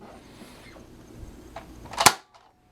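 Adventure Force Alpha Rogue spring-powered blaster fires a dart with one sharp, close snap, preceded by faint handling noise and followed by quiet.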